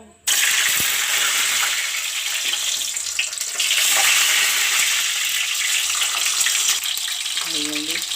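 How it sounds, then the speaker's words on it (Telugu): Ginger garlic paste, onion paste and yogurt drop into hot oil for egg biryani, giving a loud, continuous close sizzle and hiss with a few faint clinks, heard alone. "ఇందులోకి అల్లం వెల్లిపాయ పేస్ట్ ఉల్లిపాయ పేస్ట్ పెరుగు కొద్దిగా పెరిగేసుకుంటాను ఆయిల్ మరిగింది కదా"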